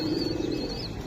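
Giribaj pigeons coo in a low, steady murmur, close and continuous over a constant background hum, with no talk.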